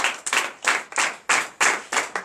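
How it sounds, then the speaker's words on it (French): A church congregation at a night deliverance and prophecy service in Benin claps in acclamation, a loud burst of about eight rhythmic, evenly spaced group claps with no talking. "Donnez l'acclamation au Seigneur."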